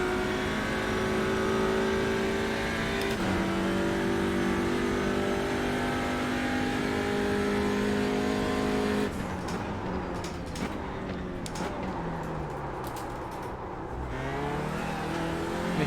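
Onboard race car engine on a first qualifying lap of the Nürburgring Langstrecken-Serie, loud sustained revving with rising pitch, sharp gear shifts and a lift-off and braking section before accelerating again.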